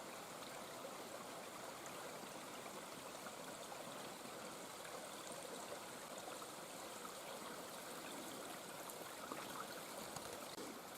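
A river runs past rocks and moss along its bank in a Berea sandstone gorge, Stebbin's Gulch, in October, making a steady, even rushing flow that continues alone with no voices.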